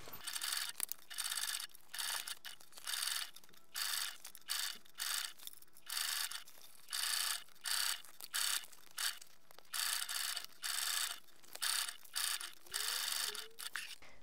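A sewing machine bastes a seam on a toiletry bag, running in short bursts of fast rhythmic stitching with brief pauses between them, close and fairly quiet with no talking.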